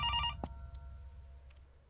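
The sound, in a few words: telephone ringing in the video game Infliction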